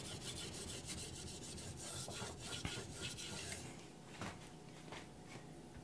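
A blade is sharpened with full-length strokes on a 1000 grit stone, giving a faint, steady rasping rub in a regular back-and-forth rhythm, heard close with no voices.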